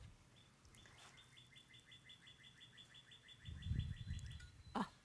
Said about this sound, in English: Listen to those birds. Can you hear those birds?